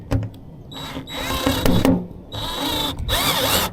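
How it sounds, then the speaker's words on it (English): A power drill backs out self-drilling screws on a pool enclosure door, running in several whining bursts with short pauses between them, close and loud, with no talking. "Now removing these self-drill screws."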